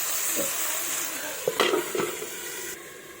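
Mixed winter vegetables with tangy, spicy masala fry in a pan with a steady hiss, while a utensil stirs them with a few scrapes and knocks in the middle.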